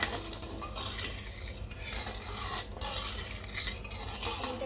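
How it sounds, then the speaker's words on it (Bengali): A spatula stirs sugar into bondia batter in a pan, giving steady close scraping and clinking against the metal with a faint sizzle underneath, continuous for several seconds. "খুন্তির সাহায্যে এটাকে আমি নাড়াচাড়া করে নেব"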